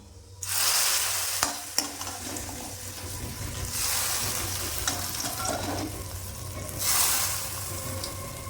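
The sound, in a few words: stirring neem shukto vegetables frying in pan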